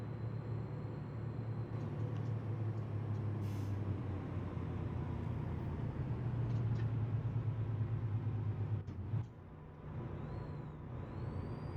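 A Kenworth T680 truck in American Truck Simulator drones steadily along, then its air brakes let out a short, sharp hiss near the end.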